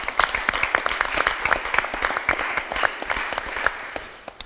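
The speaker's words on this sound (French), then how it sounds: "On peut applaudir pour Lévi" A studio audience applauds a departing game show contestant, brisk, close clapping with sharp individual claps standing out, holding steady before tapering off at the end.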